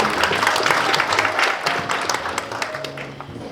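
An audience at a Korean semiconductor industry forum gives dense, sustained applause for an introduced guest, with the clapping easing slightly toward the end.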